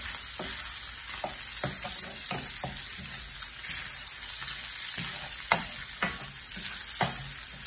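Chicken fries in a cast iron skillet with a steady, loud sizzle and spitting crackle, broken by occasional sharp pops and scrapes; no one speaks.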